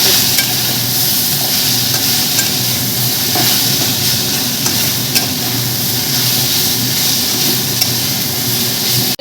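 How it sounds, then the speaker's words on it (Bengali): Taro stolons frying in a pan while being stirred, a loud, dense, unbroken sizzle with scraping stir sounds and no talk. "কচু লতিও ভাজা ভাজা হয়ে এসছে"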